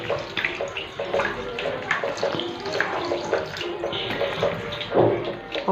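Tap water running into a cooking pot in a kitchen, a continuous splashing gush with small irregular bursts, close and fairly loud throughout.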